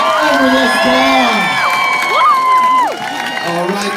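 A crowd at a pogo stick stunt show cheering, whooping and clapping, loud shrill voices rising and falling together, with children's shouts among them.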